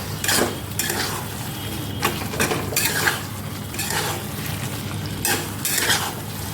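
Ground coriander, cumin and black pepper sautéing in oil in a pan, a steady close sizzle overlaid by rhythmic metal spatula scrapes against the pan every second or so.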